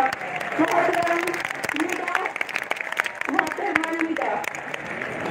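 A crowd at an outdoor rally on an Eidgah ground in Deoband applauds continuously while voices speak and call out over the clapping.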